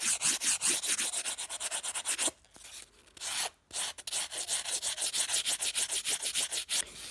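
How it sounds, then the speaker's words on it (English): A hand rasp works along the sides of a wooden knife prop at an angle, producing fast, rhythmic, rough scraping strokes close by, broken by two short pauses. "I'm going to be rasping all the sides at a 45-degree angle"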